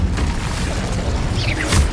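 The Incendio fire spell in Hogwarts Legacy on PS5 gives a continuous roaring rumble with crackling and a whooshing burst near the end, loud and close, with no speech.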